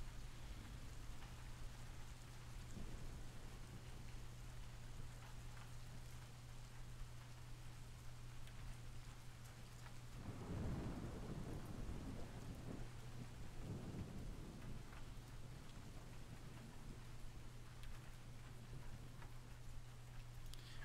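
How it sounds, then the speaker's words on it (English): Soft, steady rain hisses in the background with a low rumble of thunder swelling midway, faint and continuous without any voices. "I'm glad you guys like the rain."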